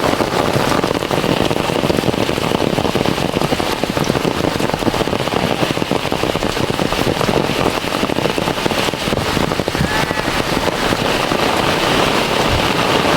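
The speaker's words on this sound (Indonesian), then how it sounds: "Hujan deras melanda Kampung Pasisian" Heavy rain pours steadily throughout in a quiet village, a dense, continuous hiss of drops pattering on surfaces, loud and close with no voices.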